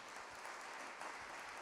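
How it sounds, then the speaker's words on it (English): Audience applause at a polar symposium in Monaco, a steady dense patter of clapping from a crowd filling the short moment, fairly faint and even throughout. "Let's give them a round of applause"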